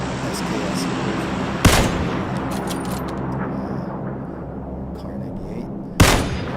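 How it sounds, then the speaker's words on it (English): Two sharp rifle shots from an SKS in the battle royale game PUBG, the first near 1.7 seconds and the second near 6 seconds, each loud against a steady rumbling game background. "We're going to see here why I typically shoot SKS."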